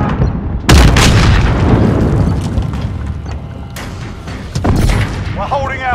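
An explosive charge detonates with a loud, close boom in Call of Duty: Modern Warfare gameplay, followed by rumbling debris and a second thump, with voice chatter in the background.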